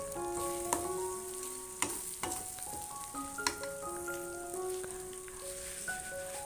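Chicken with green chili frying in a pan while being stirred, a steady close sizzle with scattered scraping clicks, under a melodic tune playing throughout.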